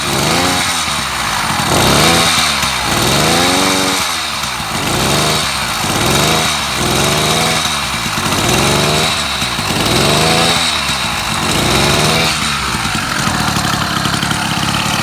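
A small Bikeberry motorized bike engine idles steadily nearby, its loud, rough putter rising and dipping in a slow, uneven rhythm, with no voices.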